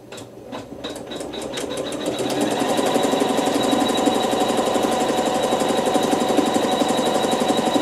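A sewing machine stitches a tack down on fabric, its needle running in a fast, steady mechanical rhythm that builds up after a few separate starting stitches and then holds loud and continuous to the end.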